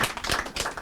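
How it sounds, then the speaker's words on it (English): A person on the Brekete Family radio programme claps briskly, a short burst of several close, fast claps lasting under a second, with no voices. "clap for him, I beg."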